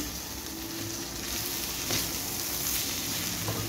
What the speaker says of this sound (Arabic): بتحاولي تغلفي كل الرزايه بالزيت اهو